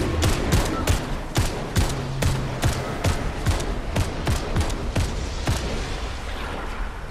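Rapid, evenly spaced gunshots crack one after another, about twenty sharp reports over several seconds at moderate distance, with faint voices underneath.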